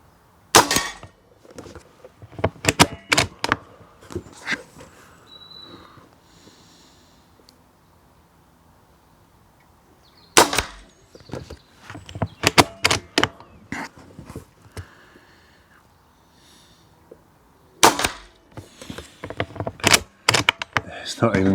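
Sharp metallic clacks and thuds in irregular bursts with quiet pauses between, .177 air rifle pellets striking a metal pellet catcher, close by with occasional soft mechanical clicks.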